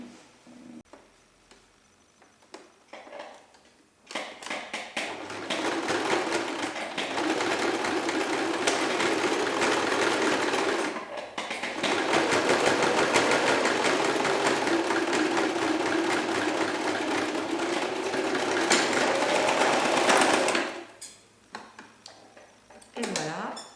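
A sewing machine stitching fabric, with a brief start, a long steady run of fast mechanical whirring and clatter, a short pause, then more stitching, loud and close, ending with quieter handling.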